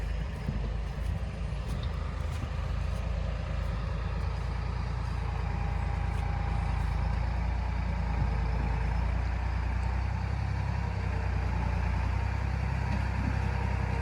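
A tractor engine idles and runs steadily in a pine forest during logging work, a loud low drone that stays continuous and close throughout.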